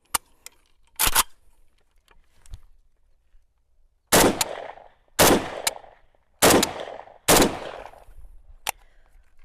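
Sharp AK rifle (AKRS) shots ring out at a target at long range, a few isolated cracks and then a cluster of four loud, evenly spaced shots with trailing echoes, fired in the open.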